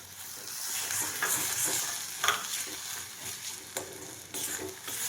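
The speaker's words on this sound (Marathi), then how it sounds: "आता आहे ना हा नारळाचा किस आणि गूळ मी असं आहे ना मिक्स करून घेणार आहे." Grated coconut and melted jaggery are stirred together in a still-hot kadai with the gas turned off, giving soft sizzling and repeated scraping strokes of the spoon close up, no talking.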